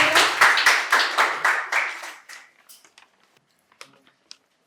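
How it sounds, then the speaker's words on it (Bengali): Audience at a quiz competition in a medical college and hospital applauding, a loud burst of close rhythmic clapping that fades out over a few seconds into scattered last claps. "জোরে একটা হাততালি হয়ে যায়।"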